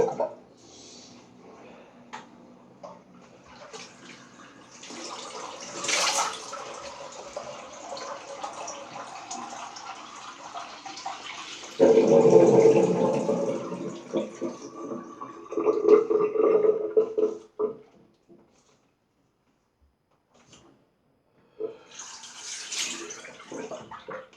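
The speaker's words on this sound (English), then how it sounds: "I'm going to drain this water" Water gurgles and drains steadily from a shaving setup, growing louder midway with sloshing, then stops briefly before a final trickle.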